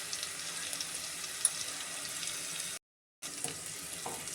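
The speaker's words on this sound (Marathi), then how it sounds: "हे आपण चांगलं परतून घ्यायचं आता." Bay leaf, curry leaves, cloves, cumin and turmeric sautéing in a pan for Vidarbha-style kadhi gole: a soft, even sizzle running steadily, broken by a brief silent gap, with a few faint clinks near the end and no talking.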